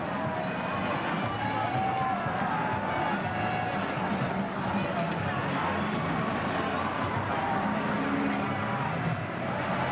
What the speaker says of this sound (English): As we look at some of the thinning crowd on the floor of New York's Times Square